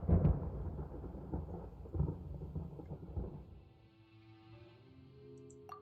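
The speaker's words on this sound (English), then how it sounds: "Paimon hears thunder!" Thunder in the video game Genshin Impact rolls in low, heavy rumbles for about three seconds, then fades under soft, sustained background music.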